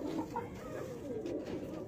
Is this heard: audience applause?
no